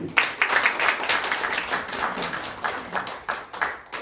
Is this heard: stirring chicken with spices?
no